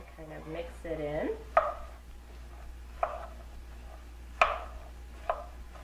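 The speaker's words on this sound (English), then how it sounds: "And give it a little stir to kind of mix it in." Vegetables with a pinch of salt stirred in a pan: a few sparse, sharp spoon taps and scrapes against the pan, spaced a second or so apart, after a brief voice at the start.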